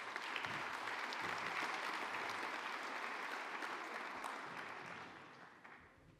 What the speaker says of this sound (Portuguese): un fuerte aplauso para recibirla.